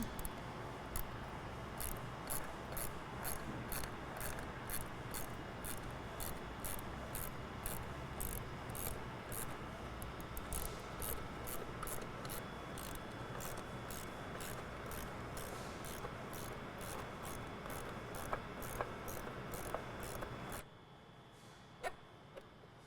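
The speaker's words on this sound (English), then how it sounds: "So now we're going to remove this battery tie down" A ratchet clicking steadily as it removes the battery tie-down hardware on a 2017-2019 Ford Powerstroke 6.7L truck, a quick even run of small close clicks over low background noise that stops near the end.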